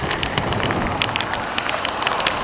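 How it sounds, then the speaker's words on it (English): Heavy rain pours down near Gander, Newfoundland, a dense steady hiss with scattered sharp drops spattering on a nearby surface, loud and continuous with no voices. "it is pissing down rain here in Newfoundland"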